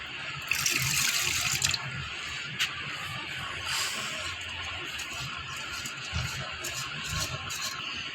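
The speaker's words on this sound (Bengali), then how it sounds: "চালটা আমার ধোয়া শেষ, এখন চুলাতে বসাই।" Tap water runs over rice as it is washed, a close, steady splashing stream that rises louder near the start and then settles into a softer trickle with small knocks from the pot.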